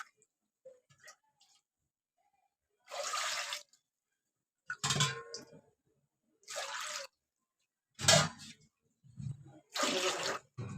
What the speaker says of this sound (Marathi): ह्याच कढईमध्ये मी आता चार ग्लास पाणी ठेवते उकळत